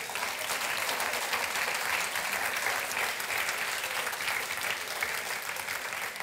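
A church congregation claps steadily during worship, a thick continuous wash of applause heard at moderate distance, even in level from start to finish.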